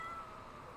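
A kitten gives one brief, faint, high meow that fades quickly into a quiet background.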